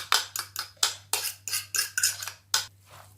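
A utensil clinks and scrapes against a bowl while stirring cabbage stuffing with egg and breadcrumbs, about a dozen quick rhythmic strokes, close and clear over a low hum.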